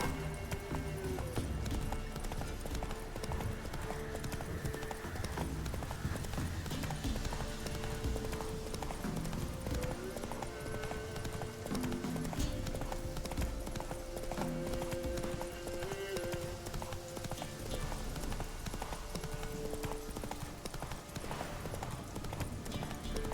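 Hooves clip-clop in a rapid, steady galloping rhythm from a horse in the video game The Witcher 3. The hoofbeats run throughout over a dense game soundscape, with faint background voices.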